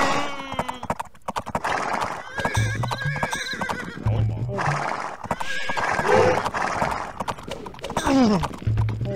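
Units in the Age of Empires video game whinnying and snorting with clopping hoofbeats, repeated animal calls over galloping steps and battle clatter, with a commentator talking underneath.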